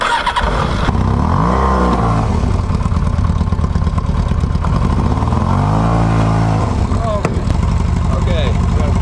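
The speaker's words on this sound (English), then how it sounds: "Before I start the bike, we need to fix this one." A sportsbike motorcycle's engine is loud and close, its pitch rising and falling through repeated revs in Iceland.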